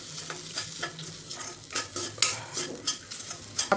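A coconut, ginger and coriander paste stir-fries with tomato in a pan for a sandige curry, with steady sizzling and frequent scraping spoon strokes and clinks against the pan, up close and without talking.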